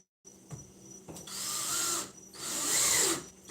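A power drill whirs in two sustained bursts, driving screws into a piece of furniture, with brief quieter gaps and clicks between the runs, close and fairly loud.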